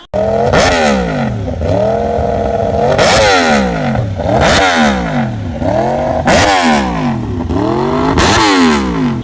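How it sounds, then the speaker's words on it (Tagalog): Yamaha R1 crossplane-engine motorcycle exhaust revved repeatedly close up: about six sharp throttle blips, each rising in pitch then falling away, loud and rhythmic with uneven gaps, no speech. "Ang tunog ng R1 ay buong-buo at napakastig, which sounds like an incredible, expensive Italian bikes like the RS V4 or the Benelli V4 motorcycles."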